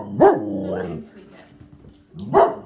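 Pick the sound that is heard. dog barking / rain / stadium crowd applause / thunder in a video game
dog barking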